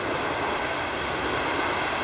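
A departing train rumbles steadily at close range, a dense, continuous broadband roar with no talk over it and no break in level.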